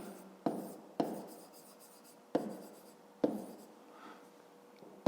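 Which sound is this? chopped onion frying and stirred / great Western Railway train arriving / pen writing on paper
pen writing on paper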